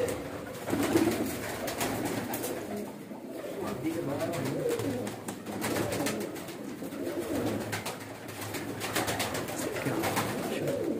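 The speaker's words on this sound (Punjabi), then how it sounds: "ਚਲੋ ਜੀ ਹੁਣ ਸਾਨੂੰ ਗੋਲਡਨ ਕਬੂਤਰ ਵਿਖਾਓ" Golden pigeons at a breeder's loft coo in low, repeated murmurs, fairly faint, with some voices in the background.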